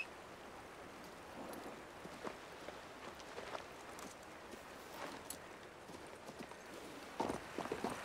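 Horse hooves clip-clopping in the video game King's Bounty II, a steady quiet rhythmic trot with soft rain-like patter underneath and a brief louder burst near the end.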